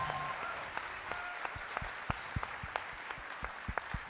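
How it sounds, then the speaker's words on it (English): Applause for two collegiate athletes at a Stand With Women event in Pennsylvania: modest, fairly distant clapping with a few sharp, louder claps standing out near the microphone. "to join me in just giving great kudos and applause"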